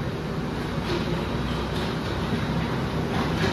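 Ambience at Bangalore Cantonment railway station, a dense, steady rumble of train and platform noise with a broad wash of wind-like hiss, no distinct events standing out.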